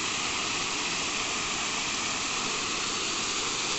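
Small waterfall at Fitzroy Falls in Morton National Park, a steady broadband rush of falling water that stays even and continuous throughout, with no voices.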